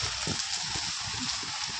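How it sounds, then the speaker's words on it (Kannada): Heavy rain comes down outside a shop as a loud, unbroken hiss, with soft low thuds scattered underneath. "ಎಷ್ಟು ಜೋರಾಯಿತು ಅಂಥೇಳಿ ಮಳೆ"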